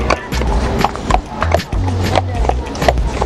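Horses pull a carriage at an eco park, their hooves clip-clopping in a quick, regular rhythm on hard ground. A low rumble of wheels runs underneath, and people talk nearby.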